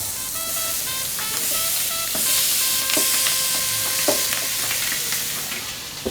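Food frying in a pan, a dense, steady sizzle with occasional crackles and pops, close and fairly loud throughout.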